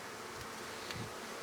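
Honey bees buzz around an open hive during an inspection, a soft steady drone from many bees close by, faint and unbroken, with no voices.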